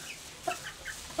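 A few soft, brief clucks come from chickens inside a backyard coop pen, faint against low background hiss.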